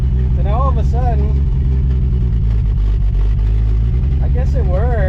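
The engine of an abandoned 1973 Mercury Comet, parked for 29 years, runs loud and close with steady rough idling and a couple of revs as the gas pedal is pressed, while someone talks over it.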